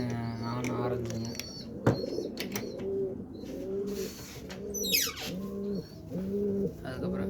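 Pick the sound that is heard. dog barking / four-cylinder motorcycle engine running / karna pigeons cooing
karna pigeons cooing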